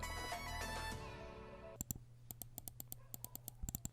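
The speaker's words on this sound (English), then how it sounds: "the right and left keys are actually pretty tactile and really satisfying in terms of clicking" Left and right buttons of a Redragon Invader M719 RGB gaming mouse clicking, a quick series of crisp, close, tactile clicks in an irregular rhythm after a brief tonal sound fades out.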